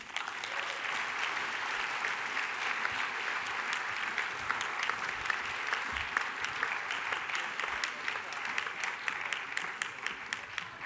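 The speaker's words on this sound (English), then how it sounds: "Give them a round of applause." A large audience applauds delegate speakers at the One Young World 2011 environment plenary, with dense, steady clapping that holds at full strength for about eleven seconds and carries no speech.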